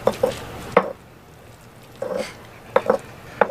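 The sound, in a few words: mixing guacamole with basil in a bowl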